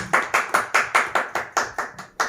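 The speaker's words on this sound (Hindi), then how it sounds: "एक बार यीशु मसीह के लिए जोरदार तालियां बजाएंगे" Congregation at a Palm Sunday worship meeting clapping in praise of Jesus: about eleven loud, sharp, rhythmic group claps in a steady beat, close and unaccompanied by talk.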